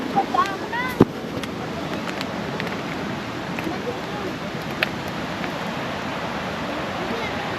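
Steady broadband rush of the Anantagiri waterfall in the Araku Valley hills, a continuous close wash of falling water filling the scene, with a sharp knock near the start and faint voices mixed under it.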